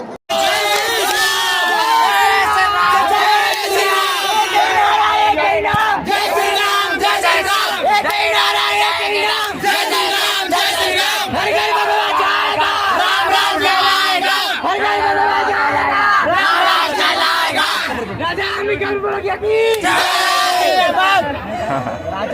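A huge crowd at the Nawapara Dussehra festival roars and cheers continuously, dense shouting and babble filling the air at close range throughout.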